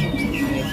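An anis macan thrush at a bird kiosk gives a brief, thin call: a couple of faint whistled tones over a low background murmur.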